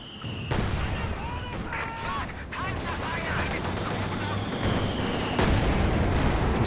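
Gunfire and heavy mortar fire crackle through a Company of Heroes 2 battle in a dense, continuous barrage, with a commentator's voice talking over it throughout.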